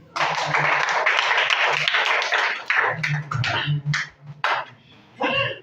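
Applause from a church congregation at a youth talent event in Mbuji-Mayi, a dense patter of clapping for about three seconds that thins into scattered claps and brief voices before a final short burst.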